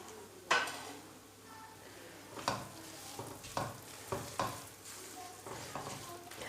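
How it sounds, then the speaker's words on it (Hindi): Gram flour (besan) roasting in ghee in a pan is stirred with a utensil, producing a steady soft sizzle broken by several sharp scrapes and clinks at an uneven pace, close by with no talking. "हम इसे इतना भूनेंगे कि जब बेसन फूलने लग जाएगा ना"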